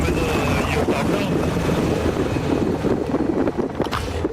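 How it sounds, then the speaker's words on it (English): A USB fan plugged into a PlayStation controller roars as loud, constant, windy whooshing picked up by the controller microphone, close and buffeting, resembling a helicopter or wind noise. Voices chatter faintly underneath. "USB fan is connected to your controller, dude?"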